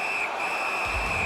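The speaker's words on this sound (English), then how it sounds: "the whistle stops play" A referee's whistle blows a single sustained shrill blast to stop play at an NAHL ice hockey game, loud and steady with arena noise behind and a low thump near the end.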